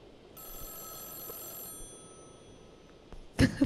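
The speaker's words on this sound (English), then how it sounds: "The telephone is ringing." A telephone rings inside a video game, a steady electronic bell tone holding for over a second against a faint ambient background, followed by a brief louder burst near the end.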